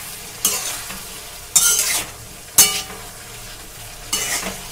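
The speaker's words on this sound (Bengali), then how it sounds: "এবার এতে দিয়ে দেবো 1/2 চা চামচ লঙ্কা গুঁড়ো, ভালো করে মিশিয়ে নেব" Cauliflower curry seasoned with chili powder sizzles softly in a pan while a spatula scrapes through it in four distinct, sharp stirring strokes, close and clear, with no talking.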